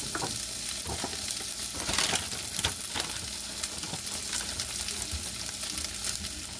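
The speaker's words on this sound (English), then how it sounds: "I decided to go ahead and throw the sausage in" Sausage sizzles steadily in a frying pan, a dense continuous crackle of hot fat with occasional louder pops and scrapes, close and without talk.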